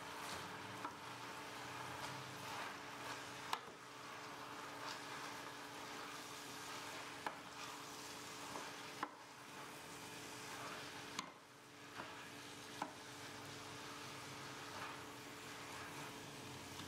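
Spinach and spaghetti squash frying in a pan, with a faint, steady sizzle and a few soft stirring scrapes and knocks breaking through at intervals.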